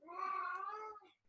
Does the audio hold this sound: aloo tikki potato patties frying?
no